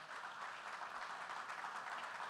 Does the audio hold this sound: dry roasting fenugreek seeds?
no